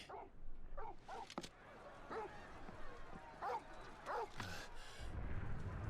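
A puppy barks and yips in a string of short, sharp calls spread across a few seconds, fairly close but modest in level, with some rustling noise toward the end.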